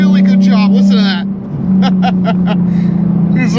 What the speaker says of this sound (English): This is a really good sounding car.